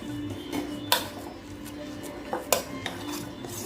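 Cooked samai rice being mashed in a pressure cooker pot for sakkarai pongal, giving a few sharp metallic clinks and scrapes of a utensil against the pot over a low steady background.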